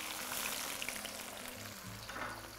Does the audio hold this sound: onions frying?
yes